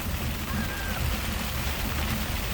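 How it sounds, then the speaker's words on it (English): Dense, steady patter of hail striking surfaces on a boat, a continuous rattling hiss with no pauses. "Woo, hail."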